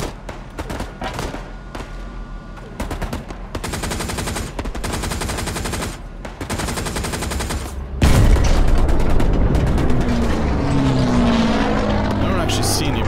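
Panther tank cannon shells fired in the World War II shooter Hell Let Loose, with rapid machine-gun bursts and a heavy booming blast followed by rumbling tank engine and clanking tracks; a voice talks over the loud battle.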